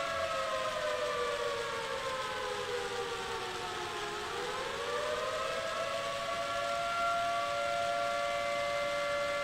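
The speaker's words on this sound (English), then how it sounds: "did someone turn that siren off yet?" A loud civil defense siren wails steadily, its pitch dipping and then rising again, sustained throughout with no talking.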